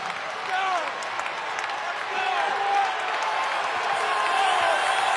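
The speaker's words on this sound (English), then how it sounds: "the crowd rises to its feet, and it gets loud here in the Denny" Basketball crowd in the Denny arena during a Summit League semifinal, a broad sustained roar rising to its feet, with a commentator talking over it.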